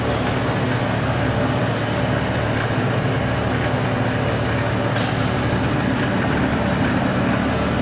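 A cutaway car gearbox demonstration unit with five speeds and reverse running under power, a dense, continuous mechanical roar and grinding whir that holds steady and loud throughout with slight rhythmic pulsing.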